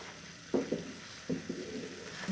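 Suji halwa with ghee stirred in a pan, a few scraping strokes of the spoon against the metal over a low, steady sizzle, close and quiet with no talk.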